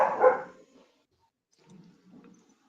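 A single dog bark bursts out loud and close at the start, then trails into a few faint, low rustling noises in an otherwise quiet room.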